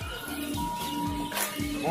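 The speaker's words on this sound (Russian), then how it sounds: "О, голуби." Pigeons coo in low, repeated throaty pulses close by at an open-air poultry market in Syrdarya, with chirps and people talking over them.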